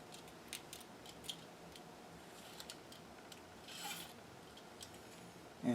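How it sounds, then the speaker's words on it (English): A knife scrapes the enamel coating off wire during a repair of a 1927 Utah Model 16 drum speaker, giving faint, soft, scattered scraping strokes over quiet background hiss. "I'm scraping off that enamel coating."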